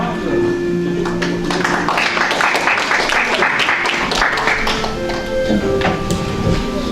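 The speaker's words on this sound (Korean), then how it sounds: "박수로 맞으시면 고맙겠습니다." An audience at a formal 50th-anniversary commemoration ceremony welcomes an incoming association chairman with a swell of clapping that builds and then fades, over a steady room tone, with a voice at the edges.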